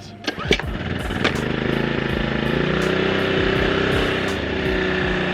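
A Dirty Hand Tools engine-powered machine starting up with a few sputtering turns, then settling into a loud, steady full-throttle drone heard up close with no talking.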